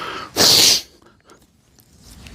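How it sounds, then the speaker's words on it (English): A single loud, wet nose blow bursts out close by during an outdoor hike at Pedernales Falls, lasting about half a second, followed by quiet breathing and faint rustling. "I gotta blow my nose."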